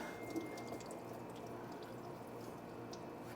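Coolant trickles out of a 2016 Chrysler 300 after the thermostat housing comes off, a faint, continuous dripping and splashing of liquid.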